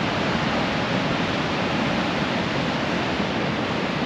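Waves of the Great Southern Ocean roll in as a continuous broadband roar of surf, steady and fairly loud throughout with no distinct breaks and no talk.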